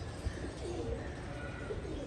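Pigeons coo softly, low throaty calls repeating a few times against a murky background hum, distant and faint with no talk.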